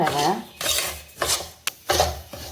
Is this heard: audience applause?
no